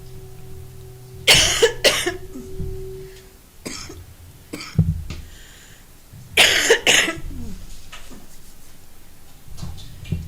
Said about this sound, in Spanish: Quítame la tos.